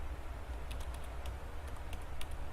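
Steady, fairly quiet keystrokes as code is typed on a computer keyboard while working in Android Studio, a run of light clicks under a constant low background hum.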